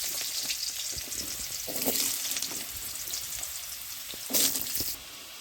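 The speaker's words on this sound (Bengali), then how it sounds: "এবারে কড়াইয়ে আর একটু তেল দিয়ে আমি আলুগুলোকেও ভেজে নেব ঠিক ওইভাবে।" Potatoes frying in oil in a kadai, a steady close sizzle with occasional stirring clatters and a louder burst of crackling near the end, no voices.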